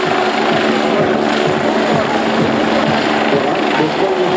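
A rescue helicopter hovers at an air show, its rotor and turbine roar loud, close and continuous throughout while a commentator talks over it.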